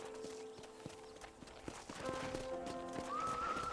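A horse in the Red Dead Redemption video game clip-clops at a brisk pace, hoofbeats sounding in a steady rhythm, with a whinny and game tones rising toward the end.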